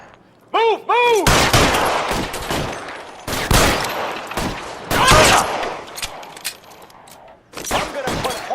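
Gunfire crackles through a video game police shootout in L.A. Noire, with repeated loud bursts of shots and sharp reports spread across the scene, some overlapping in rapid volleys, while voices shout in between.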